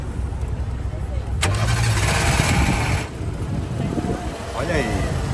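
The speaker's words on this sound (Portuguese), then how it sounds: "Pedi para que a proprietária desse partida aqui do motor para a gente escutar aqui o ruído do motor." A car engine cranks and catches, then settles into a steady idle at a used car fair, with people talking over it.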